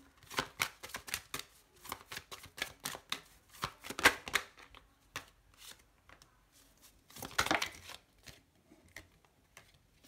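Tarot cards being shuffled by hand, a close run of quick riffling flicks and soft slaps in irregular bursts, with a denser flurry near the end.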